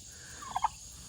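A poultry bird feasting on cantaloupe lets out two quick gobbling calls at a distance, faint against a quiet outdoor background.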